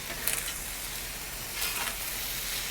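Chicken fried rice sizzles steadily on a Weber Slate flat-top griddle, a continuous broad hiss with brief scraping surges from stirring, close and fairly loud with no talking.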